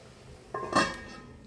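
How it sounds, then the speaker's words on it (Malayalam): A metal lid set onto a cooking pot of greens on the stove, a single close clank with a short metallic ring that fades over the next half second. "നമുക്കിത് മൂടി വെച്ച് നോക്കാം"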